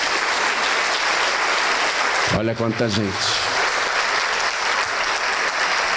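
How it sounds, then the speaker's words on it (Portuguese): Steady applause from a church congregation fills the whole stretch, loud and dense, with someone briefly speaking over it near the middle. "vamos aplaudir ao nome de Jesus"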